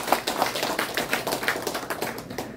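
An audience claps steadily at a calligraphy exhibition opening in Insadong, with sharp, close hand claps blending into an even, sustained round of applause.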